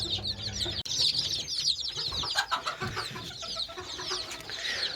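Many week-old chicks in a cage cheep and peep continuously nearby, a busy chorus of high chirps with occasional soft clucks.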